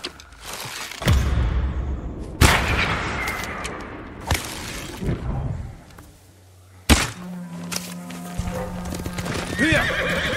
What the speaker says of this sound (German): Wo ist mein gutes Pferd? Da ist mein gutes Pferd.